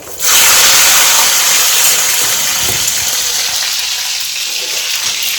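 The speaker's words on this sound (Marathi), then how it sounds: "शेंगा हा धुवून व्यवस्थित आम्ही आता तेलात टाकत आहोत" Washed bean pods hit hot oil with a sudden loud, dense crackling hiss that stays strong and steady close by, easing only slightly as it settles.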